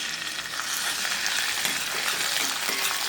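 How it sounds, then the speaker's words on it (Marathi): Garlic and green chili paste sizzles and fries steadily in about two spoons of oil in a village kadhai, a dense continuous crackle with faint stirring, alone and close. "तर आपण याला परतू देऊया यामध्ये तेलामध्ये."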